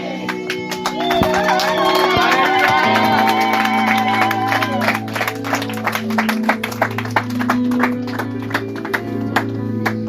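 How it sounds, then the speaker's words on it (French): A church congregation claps and cheers during a sermon, with sharp rhythmic claps over sustained, tuneful vocal cheering and music-like tones, loud and lively throughout. "Is that applause for what he said?"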